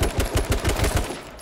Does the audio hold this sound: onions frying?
no